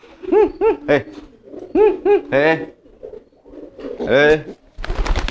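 Repeated soft, rising coos from a crested pigeon come in short bursts close by, separated by brief pauses, ending in a rustle.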